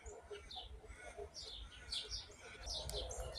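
Australian native birds, including magpies, chirping and calling outdoors near a dog kennel, with a string of short bright tweets over faint low background noise.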